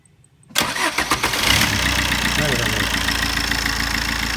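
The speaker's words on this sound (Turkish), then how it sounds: "Şimdi aracı bir daha çalıştıralım bakayım." A car with a 1.3 Multijet diesel engine starts after a moment of silence, catching abruptly and settling into a steady, loud, rough diesel idle that runs close by to the end.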